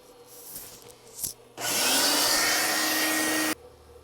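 A vacuum cleaner works inside the dash area of a 2014 Ford F150 during evaporator replacement. It roars steadily for about two seconds close by, then cuts off abruptly, with brief rustling before it.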